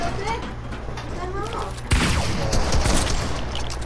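Gunfire in the video game Fortnite erupts as a sudden, loud burst of rapid shots about halfway through, after a stretch of quieter game ambience.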